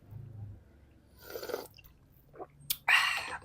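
Someone eats a bowl of Ilocano kakapsat soup, a few soft, close chewing and biting crunches in short separate bursts amid quiet, with a louder, wetter mouthful toward the end.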